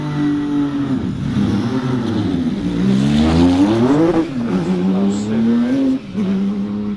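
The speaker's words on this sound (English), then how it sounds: "and it's now Graham Lokes, the class leader, on the hill with this unique Lola Porsche, the T492 chassis." A Lola Porsche T492 race car climbs the Prescott hillclimb course, its engine loud and close, revving up and down through gear changes with sustained rising and falling pitch.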